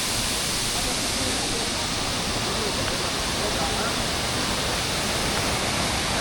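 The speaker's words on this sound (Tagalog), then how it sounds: "Ayan ang Tagdibinta Falls for the second time around." Tagbibinta Falls pours in a strong, steady roar of rushing water, a dense unbroken wash of sound that stays loud and constant throughout.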